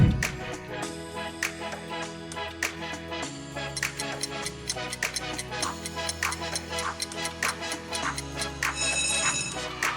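A OnePlus smartphone ringtone plays on its own, a busy electronic tune of bright plucked notes in a quick, steady rhythm over a held low bass, staying loud and close throughout.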